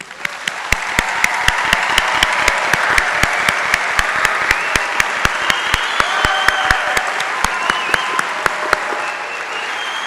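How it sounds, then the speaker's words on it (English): A large audience at a high school graduation ceremony gives sustained, even applause, a dense wall of clapping that carries on at a steady level for about ten seconds. "just how proud we are of this graduating class of 2020 by a round of applause"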